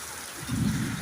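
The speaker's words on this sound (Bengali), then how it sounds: "আবার কি জোরে বৃষ্টি এলো দেখুন" Steady broadband hiss of heavy rain pouring down, swelling slightly louder partway through, with no voices.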